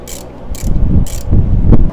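A socket ratchet tightening a ground wire bolt in a first-generation Pontiac Firebird engine bay: three loud, close bursts of ratcheting clicks over a low mechanical rumble.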